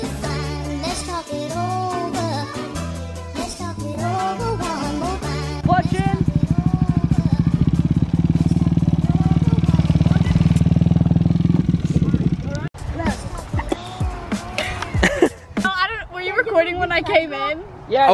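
A dirt bike engine running while being ridden, its buzzing roar loudest in a long middle stretch, with people talking and calling out over it before and after.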